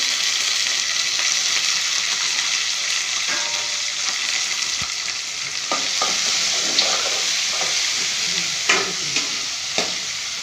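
Dried fish fries in a pan with a steady sizzle, occasional stirring scrapes and faint pops, continuous and close, no voices.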